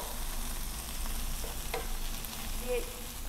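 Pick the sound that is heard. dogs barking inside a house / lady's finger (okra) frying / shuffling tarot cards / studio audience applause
lady's finger (okra) frying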